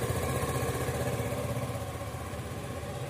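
A 2023 Hero Xoom 110 ZX scooter idles steadily nearby, a smooth, even mid-pitched engine hum with a faint rhythmic flutter and no voices over it.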